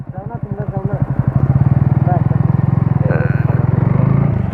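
Several motorbikes set off on a Sunday group ride for stunt practice, their engines revving loud and close with a rapid pulsing throb that rises as they pull away.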